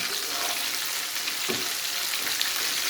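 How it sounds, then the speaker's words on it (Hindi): Fish pieces coated in gram flour batter frying in hot oil over a high flame, a dense continuous sizzle and crackle with a soft stir partway through, close and steady without speech. "इसको हम तल लेंगे, अच्छी तरह फ्राई हो जाए हाई फ्लेम पे"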